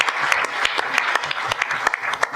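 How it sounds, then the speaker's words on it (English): An audience at a civic forum applauds a guest being introduced, steady dense clapping from a fairly close crowd throughout. "Give him a round of applause"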